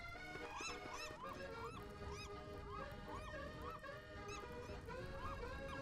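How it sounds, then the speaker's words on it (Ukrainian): Repeated harsh, honking seagull calls in the video game Don't Starve: Shipwrecked overlap one another in a steady chorus over constant background noise, loud and continuous throughout. "Будемо ще цей шизоїдний звук чайк слухати."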